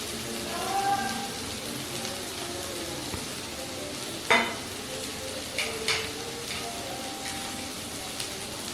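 Pumpkin and bitter gourd fry over low to medium flame in a pan, a soft continuous sizzle with a few clinks and scrapes of a spatula stirring, near and without voices.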